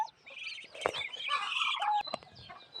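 Pet ducks and other farmyard fowl are fed in the morning, with several close, overlapping squawks and quacks, a few short calls rising into a busy cluster, and a flutter of wings mixed in.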